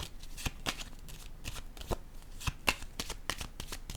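A deck of small oracle cards is shuffled by hand, with repeated crisp riffling bursts in an uneven rhythm, close and fairly quiet, with no talking.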